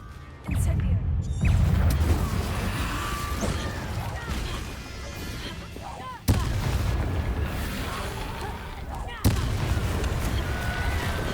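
Incendio fire spell cast in the Hogwarts Legacy video game, three heavy booming blasts that each swell into a roaring crackling burn, with game voices and effects mixed in.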